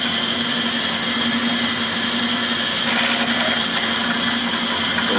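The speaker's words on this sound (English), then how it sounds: "and I can drill a hole" A drill press spinning at 900 RPM while drilling a hole, heard as a steady, loud mechanical whine and hum with a constant tone that holds throughout, with a slight shift in texture partway through as the bit bites.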